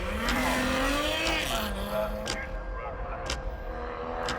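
A race car sits at the start line of the Prescott Hill Climb, its engine loud and close with a rising and falling rev note, and short sharp bursts punctuate it.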